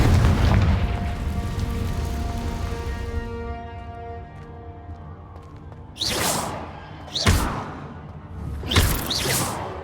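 In the Hogwarts Legacy video game, a Confringo explosion booms heavily and fades into a ringing tonal tail. Three sharp whooshing blasts follow at intervals of roughly one to one and a half seconds, with no voices.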